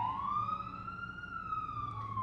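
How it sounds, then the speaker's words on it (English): Edmonton police car siren in a small-town Christmas parade, a single rising and falling wail sounding clear and steady above a low rumble of traffic and crowd. "you're about to see the first car, which is the Edmonton police car"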